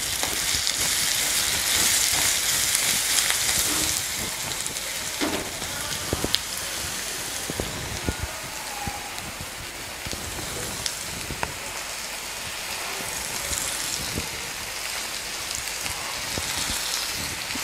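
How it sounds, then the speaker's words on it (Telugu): Cut brinjal pieces sizzling and frying in a hot pan for a South Indian brinjal mutton curry, a steady, continuous crackle with occasional sharper pops, close and fairly loud, no talking. "ముందుగా కట్ చేసి పెట్టుకున్న వంకాయల్ని ఇందులో వేసుకుంటున్నాను"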